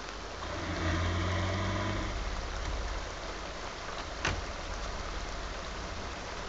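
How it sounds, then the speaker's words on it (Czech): Steady rain in The Sims 2 game hisses as a continuous broadband wash, fairly loud and even, with a low rumble early on and a single brief sharp tick partway through. "proč chceš furt řešit, že prší"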